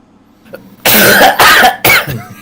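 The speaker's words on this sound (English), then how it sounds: "And you cough again." A person coughs three times in quick succession, loud and close, after a brief quiet moment.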